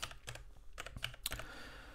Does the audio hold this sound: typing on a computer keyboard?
yes